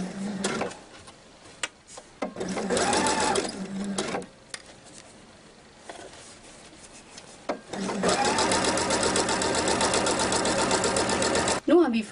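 A sewing machine does a plain straight stitch around a hoodie hood edge in two bursts, a short one and then a longer steady run, with a person speaking in the gaps between them.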